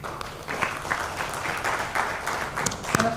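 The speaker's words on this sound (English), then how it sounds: "we can always appreciate them with a big round of applause" Big round of applause from a conference audience honoring panel guests, sustained crowd clapping with a few sharper claps standing out near the end, even in loudness and without speech.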